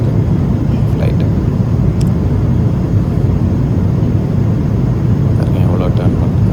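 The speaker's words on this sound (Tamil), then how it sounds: "இப்போ வந்து டேர்ன் பண்ணுது ஃப்ளைட்டு" Inside the cabin of an Emirates Boeing 777-300 banking into a turn after takeoff from Dubai, a constant loud broadband engine roar fills the air with a few faint clicks above it.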